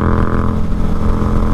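Yamaha MT-07 motorcycle engine running while riding, a loud, steady low drone with a continuous rumble and no noticeable gear shifts.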